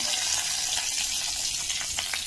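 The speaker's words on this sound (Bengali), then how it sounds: "একটু করে লঙ্কা ফোড়ন দেবো" Chillies sizzle in hot oil over low heat for a tempering, a dense even crackle close by, with a few crisp spits near the end.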